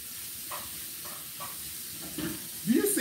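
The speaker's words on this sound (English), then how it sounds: "Look at how well my everyday skillet cooks up these vegetables" Onions and peppers frying in an everyday skillet, seasoned with salt and pepper, giving a steady close sizzle with soft stirring scrapes and a louder burst of hiss near the end.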